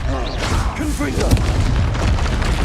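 A Confringo fire spell blasts in Hogwarts Legacy, a broad booming burst amid ongoing spell effects and game noise, with a voice talking over it.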